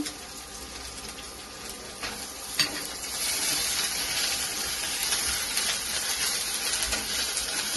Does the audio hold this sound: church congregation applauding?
no